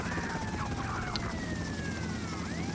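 A helicopter in GTA Vice City drones with a steady low rumble, joined by wailing police sirens that sweep up and down throughout.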